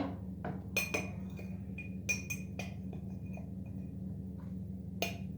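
Tablespoon clinking against a mixing bowl while cocoa is added for a moist cake, giving several light, sharp metallic taps at irregular intervals over a steady low background hum.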